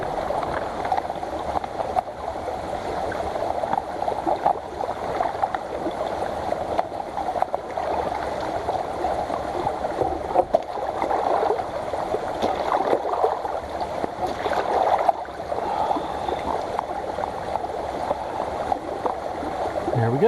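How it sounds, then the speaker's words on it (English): A small cascade along a hiking trail on a thru-hike pours steadily, a continuous broad rush of flowing water heard up close, with no talking over it. "get a little water from this pretty cascade"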